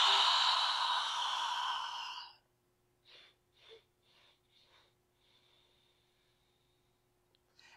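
A long, deep exhale during a yoga session for hips and side body rushes out close by, then trails into a few faint, short breaths and quiet sniffs.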